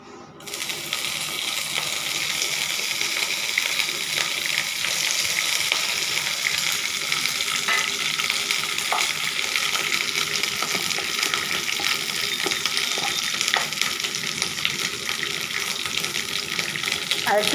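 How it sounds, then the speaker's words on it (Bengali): Soaked curry leaves go into hot olive oil and set off a loud, continuous crackling sizzle that starts abruptly and keeps a dense, even hiss for many seconds, close to the pan. "আর দেখুন আমি কারি পাতা ভিজিয়ে রেখেছি, অল্প কারি পাতা দিচ্ছি।"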